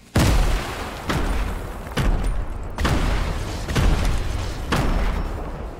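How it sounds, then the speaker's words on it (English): A string of six grenade explosions in Fortnite, each a heavy booming blast about a second apart with rumbling tails, loud and close with no talk. "Just yeet a bunch of nades down there."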